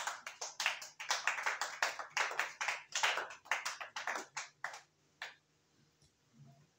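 A church congregation claps in a steady, brisk rhythm of about twenty hand claps that thin out and stop, leaving faint murmurs behind.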